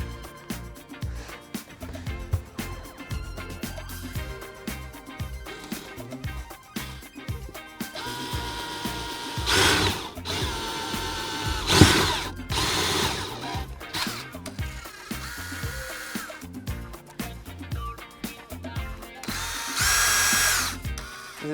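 A power drill with a bent bit runs in repeated loud bursts of whirring, with short pauses between them, during deck leveling work.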